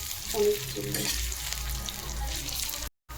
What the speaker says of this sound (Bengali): একদম সাইড ভাজবেন মিডিল আছে এটা কড়কড়া হয়ে যাবে আপনার